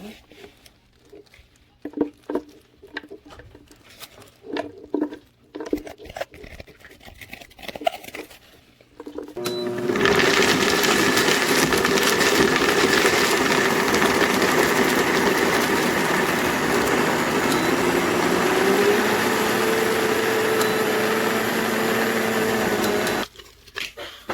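An electric grinder grinding protein bar ingredients starts up and runs loudly and steadily for a long stretch after some brief clattering and handling noises.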